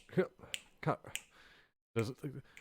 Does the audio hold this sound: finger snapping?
yes